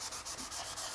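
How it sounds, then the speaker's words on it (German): A sanding sponge rubs lightly over the leather surface of a Cadillac DeVille, making soft, close, rhythmic scratchy strokes in quick succession. "will das ja glatt schleifen"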